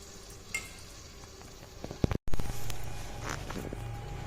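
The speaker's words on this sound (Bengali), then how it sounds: "এইভাবে আস্তে আস্তে আমি মাংসটা কষতে থাকবো" Chicken curry cooking in a pan: meat and spices being slowly stir-fried in gravy, with a steady close sizzle, scattered clinks and scraping stirs, and a brief dropout midway before the frying noise resumes louder.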